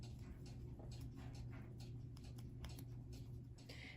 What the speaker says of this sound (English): I'm going to just take my fabric scissors and just trim off the extra